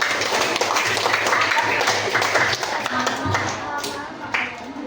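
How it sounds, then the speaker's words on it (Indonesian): A classroom group is applauded by others in the room, steady clapping running throughout at close range, mixed with scattered children's voices. "tepuk tangan untuk kelompok"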